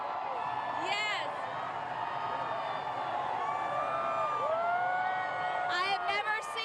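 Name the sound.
large crowd cheering loudly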